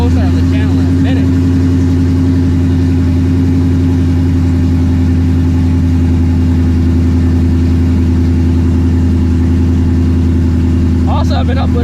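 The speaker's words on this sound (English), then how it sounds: "let's get this cold start" Shelby GT350 with a 900 hp build, a cold start settling into a loud, steady high idle with a strong low rumble throughout, a few brief sharper sounds near the start and end.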